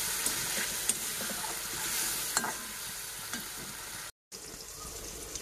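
Curd is stirred into a fried spice mix in a pan and sizzles steadily at close range, with scraping stirring strokes over the hiss and a very short break near the end.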